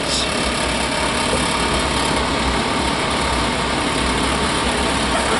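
A travel trailer's furnace, switched on, runs with a steady, loud blowing roar and low hum, unbroken from start to finish with no voices.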